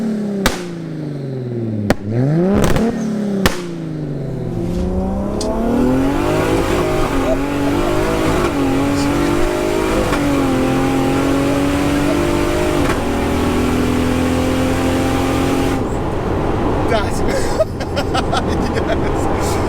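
A Toyota Supra MK4 with a ZF 8-speed automatic gearbox accelerates hard, its engine note climbing in repeated sweeps with quick gear changes between them, loud and close from inside the car, with voices talking over it.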